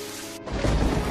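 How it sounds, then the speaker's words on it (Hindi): Heavy rain with thunder over farm fields in an animated story: after a short pause a loud, dense downpour with a deep rumbling boom crashes in and holds steady, with no talk over it. "हे भगवान, इतनी तेज बारिश।"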